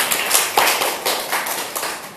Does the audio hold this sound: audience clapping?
yes